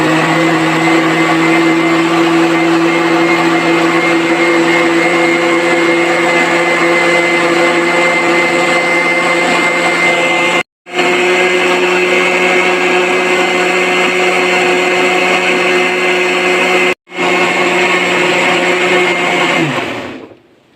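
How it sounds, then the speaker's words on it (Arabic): An electric blender mixing a homemade yogurt mixture whirs loudly and steadily for about twenty seconds, briefly cutting out twice before spinning down at the end. "هنشغل الخلاط دلوقتي"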